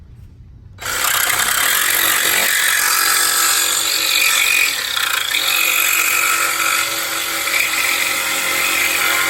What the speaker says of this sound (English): we're going to take our jigsaw. Be sure that you have eye protection, cutting metal, and we're going to cut this line.